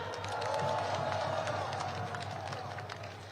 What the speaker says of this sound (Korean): 정춘생 의원님께 다시 한번 큰 함성과 박수 부탁드립니다